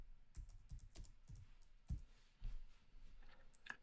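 Typing on a computer keyboard, a short run of about a dozen distinct key clicks at uneven pace, close and quiet.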